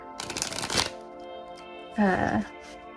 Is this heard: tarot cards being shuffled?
yes